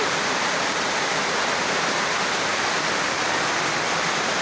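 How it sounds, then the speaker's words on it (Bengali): Heavy rainstorm pouring down at an open village market, a dense, unbroken roar of rain and wind filling the whole clip, loud and steady with no voices. "এত ঝড় বৃষ্টি হচ্ছে, দারুণ দারুণ অতিরিক্ত ঝড় বৃষ্টি হাটের মধ্যে আজকে"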